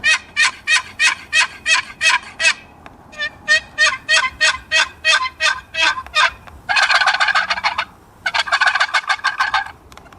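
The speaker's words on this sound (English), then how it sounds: "this is a really nice raspy sounding call" A wooden game call box of red and yellow cedar makes loud, raspy turkey-like yelps. Quick rhythmic runs of strokes come in bursts with short pauses, and the call is heard alone with no talking.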